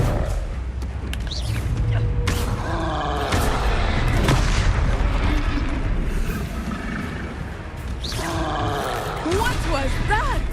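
A Descendo spell cast in the video game Hogwarts Legacy hits with loud booming impacts and a rumbling roar, mixed with other game noise and voices.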